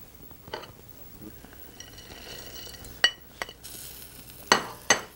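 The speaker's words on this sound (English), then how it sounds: "I'm going to now add my walnuts and roast them for a few seconds in our halva" Walnuts tossed into semolina halva in a pan, with a spoon or spatula scraping and clinking against the pot in several sharp knocks amid a soft background sizzle.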